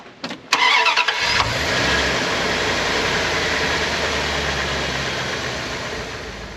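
A Dodge 5.2L V8 engine cranks briefly, catches with a roar, then settles into a steady, loud idle that hums on without talking.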